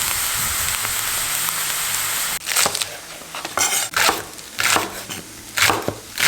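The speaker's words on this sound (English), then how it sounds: "We want to break the chemical and bring out more aroma from the shiitake mushroom out by stir fry with the oil." Shiitake mushrooms stir-frying in oil, a steady bright sizzle at first, then broken by sharp clatters and scraping of a utensil stirring the pan.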